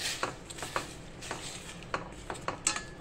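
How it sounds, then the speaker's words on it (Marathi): Paneer sautéed with turmeric and butter in a pan, a spoon scraping and tapping the metal in irregular clinks and rubs, moderately loud and close, with no voices. "हे पनीर टाकून आपण आता हे परतून घेणार आहे पनीर हळदीमध्ये।"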